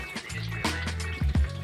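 Water running from a washbasin tap during hand washing, a short trickling, splashing flow with brief louder gushes close by.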